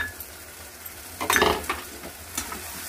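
Cashews and raisins stirred into a frying spice mix in a pan, a soft steady sizzle with a brief louder burst of stirring scrapes near the middle, close and alone without talk.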